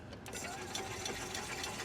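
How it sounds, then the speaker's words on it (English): EZGO golf cart gas engine cranking over after its solenoid is jumped with a ratchet, a rapid, even mechanical whirring chatter heard up close at low level, with a voice speaking over it. "you can see the engine's turning over"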